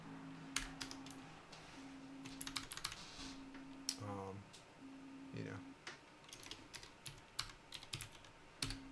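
Keys clatter on a computer keyboard in uneven bursts of quick taps, fairly close, with a voice speaking briefly partway through.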